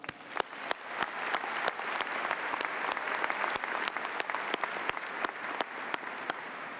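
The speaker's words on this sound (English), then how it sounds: "Please join me in a round of applause." An audience at a university commencement ceremony claps steadily and evenly from a distance, a sustained round of applause with no voices over it.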